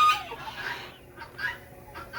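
Chickens kept with ducks and goats cluck in short, separate bursts on a quiet farmyard, a few nearby fowl calls spaced apart against low background noise.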